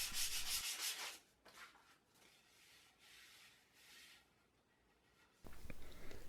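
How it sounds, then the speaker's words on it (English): A wooden hex board is gently rubbed with fine-grained sandpaper in soft, hissing strokes, louder at the start and end with quieter passes between. "the entire board needs to be gently sanded with a fine-grained sandpaper"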